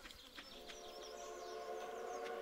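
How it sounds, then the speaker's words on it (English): A train passes in the farming game Stardew Valley, a faint, sustained whistle-like tone with a low rumble beneath, quiet and continuous. "The train is passing through Stardew Valley."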